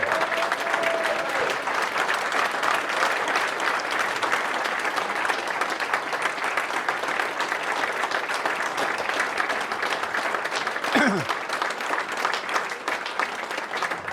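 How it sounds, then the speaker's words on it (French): Sustained applause from an audience at a savings club's general assembly, dense and even clapping filling the room for over fourteen seconds without pause. "je pense que André, on peut l'applaudir pour tout ce qu'il a fait"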